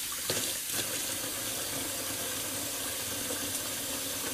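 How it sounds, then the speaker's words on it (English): Tap water running steadily into a bathroom sink, a close, constant splashing hiss with a couple of small knocks near the start. "Let me just put a little bit more water back in my sink."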